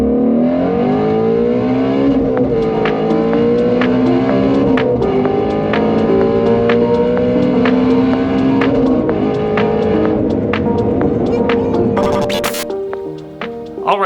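Ford Mustang GT350R V8 running close by, loud and continuous, its revs climbing and falling in long sweeps before easing off near the end.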